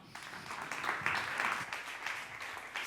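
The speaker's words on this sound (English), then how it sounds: "Let's give him a warm round of applause." Crowd applause greeting a panel host as he walks on stage at a startup conference: a warm, continuous wash of clapping at moderate level, swelling slightly midway and holding steady without voices.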